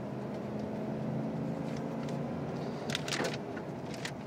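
A 2004 Ford F150 XCab pickup's engine runs with a steady low rumble throughout, with a few brief clattering noises toward the end.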